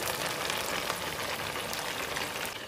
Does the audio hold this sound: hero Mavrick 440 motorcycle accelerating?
no